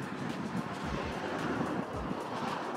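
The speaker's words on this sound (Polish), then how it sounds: "Tak jak widzicie, wieje wiatr." Wind blows steadily across a microphone on the coast at Porto Moniz, Madeira, a faint continuous rush with occasional low gusty buffets.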